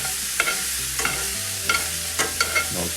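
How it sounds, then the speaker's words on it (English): Vegetables stirred in a pan over medium heat, a spoon scraping and knocking in several distinct strokes over a steady low sizzle of frying, with no voices. "So now we're gonna stir this together."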